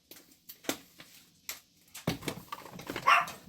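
Several dogs bark in short sharp bursts, some yips and whimpers mixed in, loud and close, growing busier toward the end.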